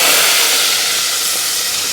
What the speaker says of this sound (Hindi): ये अब लगेगा तड़का यहाँ पे।